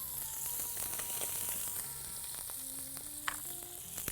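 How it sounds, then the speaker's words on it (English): Scallops searing in a pan while being basted with butter and a little garlic: a steady, close sizzle and crackle with a few light clinks of a utensil against the pan, no voices. "Once we flip it over, I'm gonna baste it in a little bit of butter."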